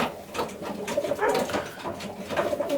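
A racing pigeon, a long-distance bird at a loft, coos repeatedly while held in hand, its low throaty murmurs close and steady through the whole stretch.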